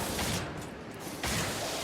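Mechanical clicks and ratcheting of a gun being reloaded in the frozen-ship shooter Cryostasis, a short busy burst of metallic handling noise that is loud and close, with a fresh clatter near the end.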